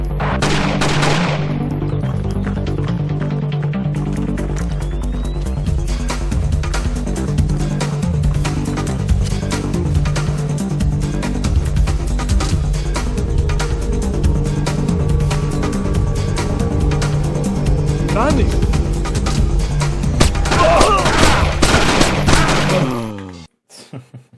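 Sustained gunfire in the stealth video game Splinter Cell, Defense Ministry level, with dense rapid shots running nearly nonstop at steady loudness over a low rumbling game score, cutting off abruptly near the end.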